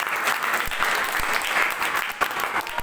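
Steady applause from an audience at an Indonesian singing contest, a dense wash of clapping hands holding at an even level for a few seconds, with a few sharper individual claps standing out.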